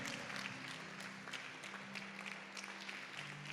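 A church congregation applauds, a steady, fairly faint patter of many hands clapping that continues evenly throughout without speech.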